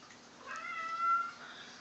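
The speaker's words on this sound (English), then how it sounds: "So my cat wants to be in the video." A pet cat gives a single drawn-out meow indoors, close and clear, rising and falling over about a second against a quiet room.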